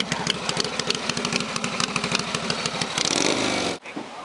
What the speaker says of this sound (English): This is a really fine motorcycle.